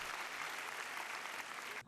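Audience applause following a Gracias Choir concert performance in Busan, a dense, steady clapping from a large crowd that fills the whole moment and cuts off abruptly at the end.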